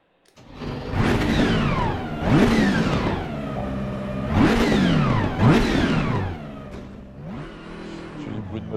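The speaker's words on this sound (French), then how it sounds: "J'ai les bruits de moteur." Racing car engine in Assetto Corsa Competizione, revving up and shifting through gears in repeated rising sweeps, loud and close with a rough rumbling tone, tapering off toward the end.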